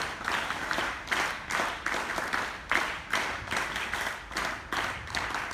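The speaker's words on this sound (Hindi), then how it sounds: "अभिनंदन के लिए वीर ताली।" Audience claps in repeated rhythmic bursts at an Independence Day ceremony held at a gurukul school in Rohtak, the rhythmic rounds of cheering claps steady and fairly loud throughout with no talk over them.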